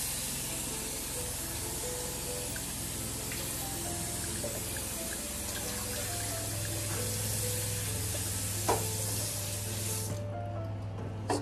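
Water runs steadily over mung beans in a strainer, a continuous splashing rush with faint clinks, stopping near the end.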